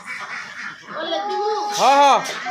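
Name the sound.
ducks quacking on a duck farm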